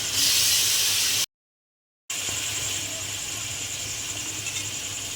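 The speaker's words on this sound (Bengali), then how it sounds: "তোমাদের মশলাতে তেল ছেড়ে দিয়েছি, কষা ভালো করে হয়ে গেছে। টমেটো পেস্টটা দিয়ে দিলাম।" Tomato paste goes into spices frying in oil in a pot, giving a loud hissing sizzle that cuts out for a moment and then settles into a steady, quieter fry.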